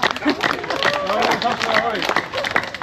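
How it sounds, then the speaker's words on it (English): A crowd at a Polynesian cultural show in Hawaii claps along on cue, a rhythmic mass of hands under excited voices and an emcee shouting over them, close and lively. "Everybody clap your hands"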